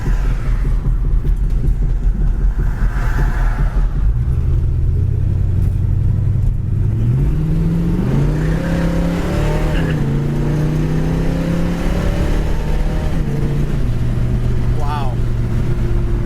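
A 1972 Chevy Nova SS engine revs up loud and close as the car accelerates down the road, its pitch climbing through gear changes before settling into a steady drone, with no talk over it.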